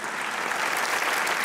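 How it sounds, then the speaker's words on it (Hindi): Studio audience applause for guest Zainab Abbas on a Pakistani talk show, a dense, steady wash of clapping at full strength throughout. "तालियां बजाएं ज़ैनब के लिए।"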